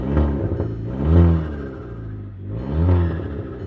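A Volkswagen Mk5 GTI with a modified exhaust blips its turbocharged engine twice, each rev swelling to a loud, deep growl and falling back to a rumbling idle, close by with no talking.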